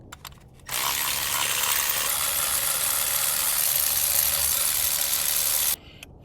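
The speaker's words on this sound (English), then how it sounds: "get a extension and a socket and remove those spark plugs" A 16mm socket on an extension loosening spark plugs on a 2011-2016 Hyundai Elantra gives a steady, fairly loud, close whirring hiss for about five seconds, alone, with clicks just before and after.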